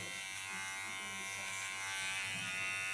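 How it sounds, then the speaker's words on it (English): A hot razor cuts and trims a man's curly, dry hair close by, giving a steady electric buzz that hums on without a break and with no talking. "In his case, I will do this with a hot razor"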